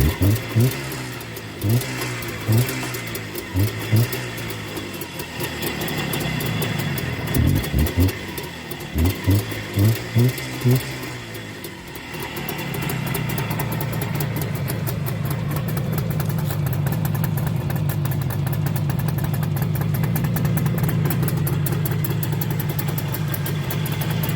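Engine running with a newly fitted, unadjusted carburetor, first uneven and surging in bursts, then settling into a steady continuous idle drone, close and fairly loud.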